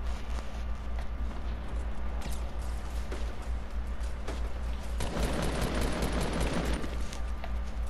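Gunfire in the Fortnite battle royale game during a 50 versus 50 match, a series of sharp shots and a denser burst of fire over a constant game background hum, with no talk.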